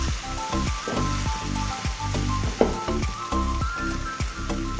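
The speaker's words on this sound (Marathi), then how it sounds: "कांदा आणि लसूण बरं भाजले की याच्यामध्ये आम्ही" Onion and garlic fry in a pan for a pumpkin-leaf vegetable dish, giving a loud, close, continuous sizzle with a rapid crackling texture and an occasional stir, and no voices.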